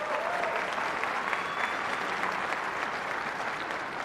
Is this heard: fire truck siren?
no